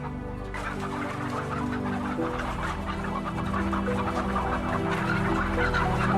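Many hens in battery cages cluck and murmur together in a dense, continuous chorus, a crowded flock inside a laying warehouse with a steady background hum.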